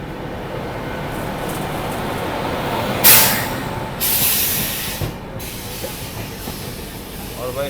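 The 12302 Howrah Rajdhani Express runs on rails toward Kanpur Central with a steady, broad rumble, interrupted by sharp bursts of hiss and rushing air.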